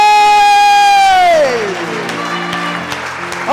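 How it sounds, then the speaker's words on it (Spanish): Applause and cheering from a church congregation break out as a sustained sung note fades, loud and crowded with shouts mixed into the clapping. "Un aplauso bien fuerte para"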